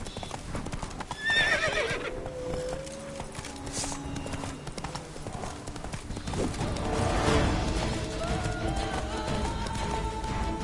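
Hooves clip-clop at a gallop and a horse neighs and whinnies in a PS4 video game, loud and close, with the gallop pounding on under game sounds and a brief faint voice.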